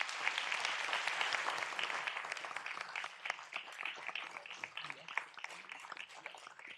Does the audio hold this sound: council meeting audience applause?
yes